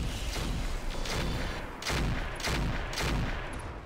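A rotary autocannon fires in the BattleTech mech game Roguetech: rapid, loud repeated bursts of heavy gunfire in quick pulses, continuous and close, with no talking.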